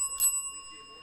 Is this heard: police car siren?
no